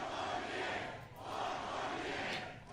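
A political rally crowd cheers and chants "four more years" in a dense, steady roar that swells, dips briefly near the middle, and builds again.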